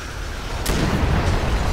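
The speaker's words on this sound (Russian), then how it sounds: "Что там за взрыв был?" A sudden explosion in the Call of Duty: Black Ops 2 mission Cordis Die, a loud broadband blast that rolls into a sustained, rumbling aftermath of battle noise.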